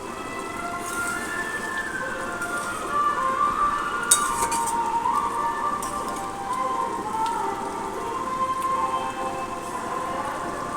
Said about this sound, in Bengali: এবার ঢাকা দিয়ে আমি কিছুক্ষণ মাছটা ফুটতে দেবো।